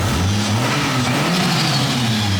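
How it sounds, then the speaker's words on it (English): A Toyota Cressida with a 2JZ engine and a 3-inch exhaust revs hard and close by, a loud, steady, throaty drone with the pitch rising and falling slightly across the rev, and no voices. "Probably shouldn't be revving it like that"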